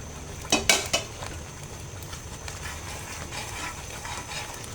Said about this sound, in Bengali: আমি 10 টাকার গুঁড়ো দুধ আর ড্রাই কোকোনাটটা একসঙ্গে দিয়ে দিচ্ছি, দিয়ে এটাকে ভালো করে মিক্স করে নেব